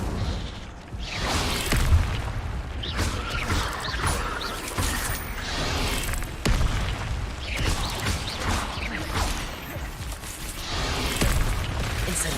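The Incendio fire spell cast in Hogwarts Legacy, heard as repeated fiery bursts and muffled booms with whooshing flames and mechanical creaks running steadily throughout.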